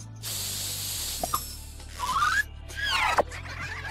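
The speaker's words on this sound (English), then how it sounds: "Got a problem? Spray some hair on it." Short hissing bursts from a spray can of hair in the video game Crash: Mind Over Mutant, mixed with squeaky, swooping cartoon effects over a quiet hum.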